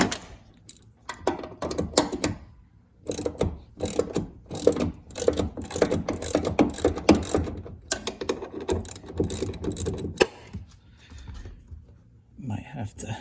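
A ratchet loosens bolts on the lower door hinge of a 2007–2013 Chevrolet Silverado, with repeated close clicking bursts in uneven runs and someone speaking in between.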